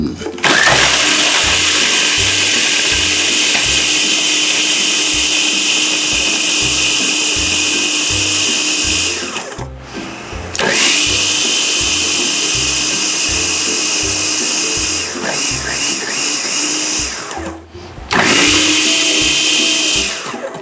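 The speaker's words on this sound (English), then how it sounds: "So now we're going to grind those up." Blender grinding about one and a half cups of graham crackers, loud and continuous for nearly twenty seconds with two brief pauses, close by, with a voice talking faintly underneath.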